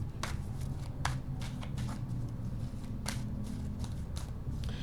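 Tarot cards are shuffled in quick riffling bursts, a soft papery rustle repeating every second or so over a low background hum.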